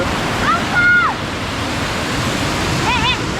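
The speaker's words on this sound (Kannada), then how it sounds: "ಫಾಲ್ಸ್" Challangayam Kampam waterfall: a steady, full roar of falling water fills the scene, with faint birdsong chirps over it and a voice briefly heard.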